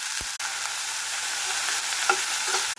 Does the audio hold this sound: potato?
yes